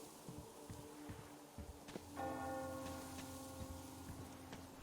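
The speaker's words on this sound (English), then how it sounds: "Do you hear that bell?" A bell rings in the Metro video game, one quiet metallic strike with a lingering ring over soft ambient rustling and ticking, sounding faint and distant.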